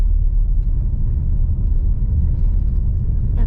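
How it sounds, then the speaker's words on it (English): Low, steady rumble of a 2023 Hyundai Tucson plug-in hybrid rolling over cobblestones, a continuous deep road drone with no distinct bumps, heard from inside the cabin without speech. "We are now on this cobblestones, but it really feels nice."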